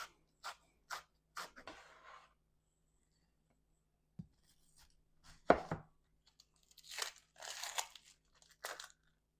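A sharp knife chops an onion on a cutting board at home, a few quick crisp cuts, a pause, then more crunchy chopping strokes close by, with no talk.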